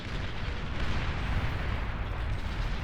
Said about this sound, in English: Bombers come in, going in for the bombing run.